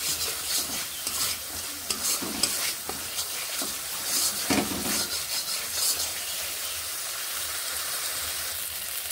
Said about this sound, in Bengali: এবার এই মশলাটিকে বেশ ভালোভাবে কষিয়ে নিচ্ছি